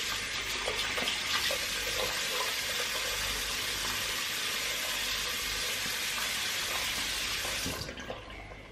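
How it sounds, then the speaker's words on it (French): Tap water runs into a bathroom sink while a face is wetted, a close, steady hiss and splash lasting several seconds before cutting off near the end. "Donc là je vais mouiller mon visage."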